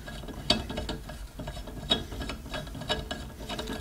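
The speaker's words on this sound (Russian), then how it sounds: "Закручиваем болты, наживляем," A ratchet wrench clicks while bolts are tightened on a Buran snowmobile suspension during a bearing replacement, giving short rhythmic ratcheting bursts up close with a few sharper metallic clicks.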